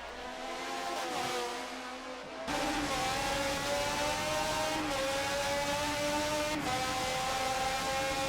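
IndyCar race cars battling at Sebring in a racing video game, high-pitched engines screaming continuously as they rev up and down through the gears, with several sharp shifts and a sudden jump in loudness partway through.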